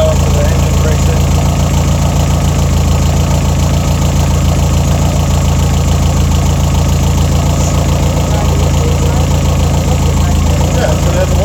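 Car engine idling steadily after a repair, still smoking while it breaks in; a loud, continuous low rumble with a fine rhythmic knock throughout.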